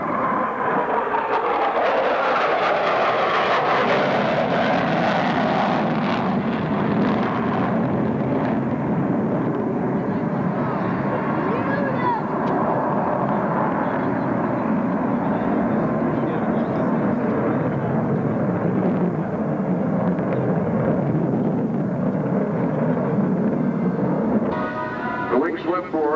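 A large airplane makes a slow, low pass over a 1995 London airshow, producing a loud, sustained roaring engine rumble that swells and lingers for over twenty seconds while a commentator talks over it.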